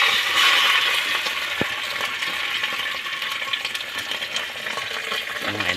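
Sardines frying in a pan make a loud, continuous, close sizzle with a burst of crackling at the start, then settle into a steady hiss with occasional faint stirring knocks.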